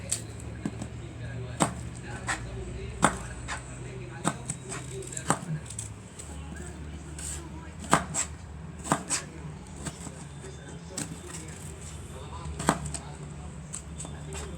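A knife chopping turnips on a cutting board, irregular sharp taps and knocks spaced out through the clip, with faint kitchen background and someone talking quietly in between.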